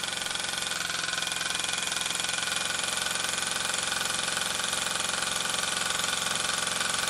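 Weller AM Mk4 model engine, a small school-project build, runs continuously with a rapid, buzzy, steady drone, close and loud with no talk.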